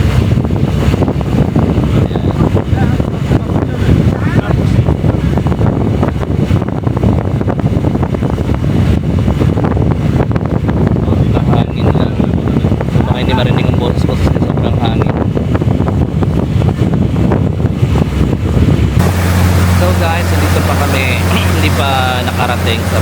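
Strong wind buffets the microphone on a boat trip between islands in the Maldives near Himmafushi, a steady loud roar with a boat engine hum underneath and a tonal drone in the last few seconds.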